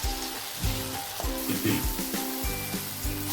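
Banana and rava mixture frying in a pan with a steady sizzle, broken by repeated scrapes and knocks of a spoon being stirred through it, close by with no talk.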